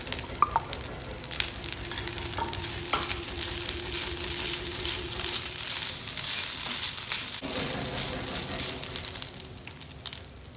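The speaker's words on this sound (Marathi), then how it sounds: "आपण यामध्ये मिक्स करून घेऊ." Cooked rice being stirred into carrots and masala frying in a pan, a steady near sizzle with scraping spoon strokes running throughout.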